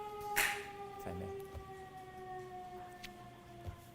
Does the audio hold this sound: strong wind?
no